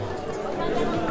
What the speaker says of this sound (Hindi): इस वक्त भी यहाँ पर बहुत ज़्यादा भीड़ है